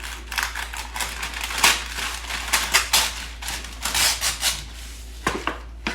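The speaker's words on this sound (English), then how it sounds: "So I'm just gonna take out some parchment paper." Parchment paper pulled from a roll and handled in a home kitchen while preparing bread dough, heard as a series of crisp crinkles, rips and taps, close and fairly loud.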